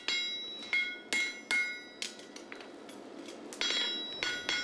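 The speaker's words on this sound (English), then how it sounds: "He's using the heel of his hammer to actually draw the clip" A farrier hammers a heavy show horse hind shoe on an anvil, drawing the clip with the heel of the hammer: sharp ringing metallic strikes come in uneven bursts of two or three, close and loud, with bright lingering ring between blows.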